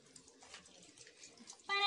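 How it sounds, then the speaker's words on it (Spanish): Soft running water from a tap while hands are washed, a faint irregular splashing stream that swells into a louder, brighter rush near the end. "Ahora sí, vamos a colocar agua. Muy bien. Tenemos que lavarlas muy bien nuestras manos,"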